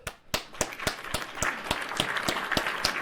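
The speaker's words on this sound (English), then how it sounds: "Everybody give him a round of applause." A small group in a podcast studio applauds a guest, with loud, evenly spaced claps in a quick steady rhythm close to the microphone.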